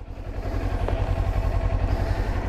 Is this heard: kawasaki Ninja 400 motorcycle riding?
yes